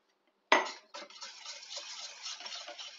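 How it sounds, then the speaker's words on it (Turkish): A whisk stirs corn starch and flour into a pudding mixture, starting with a sharp clink against the bowl and then carrying on as a quiet, steady ticking and scraping near at hand. "Hepsini güzelce karıştırıyorum. Topaklanmasını önlüyorum."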